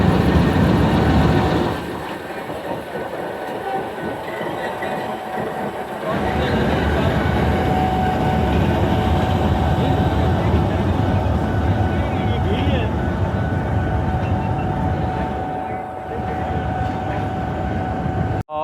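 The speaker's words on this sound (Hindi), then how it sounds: "अभी दोबारा ये कोच आगे जाएगी और बाकी जो 3 कोचेज़ हैं इकॉनमी की वो आगे इसके साथ अटैच होंगी" Jaffar Express coaches rumble and grind during shunting and coupling at a station, a loud continuous mechanical roar with a brief quieter dip, while someone talks over it.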